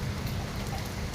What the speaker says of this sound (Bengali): দেখছেন দেখছেন কি বৃষ্টি।